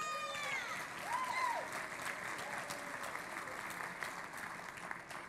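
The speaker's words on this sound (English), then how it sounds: "One more round of applause for Kimberly" Audience applause at a Columbus dance competition show, a steady wash of clapping from a large crowd filling the space for about five seconds, with faint voices and a whoop or two mixed in.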